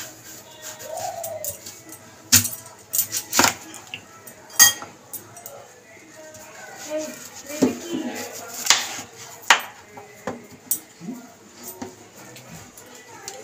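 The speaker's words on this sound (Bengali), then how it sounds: "আপেলগুলোকে একটুখানি কেটে নেব।" Knife cutting apples on a plate while preparing apple chaat, sharp intermittent clinks and taps of blade against the plate, spaced irregularly between quieter moments, with birds cooing in the background.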